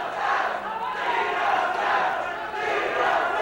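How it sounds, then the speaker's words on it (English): A wrestling arena crowd turns on Gino Hernandez with a loud, continuous roar of shouting and jeering voices that fills the space without letup. "the crowd gets on Gino Hernandez"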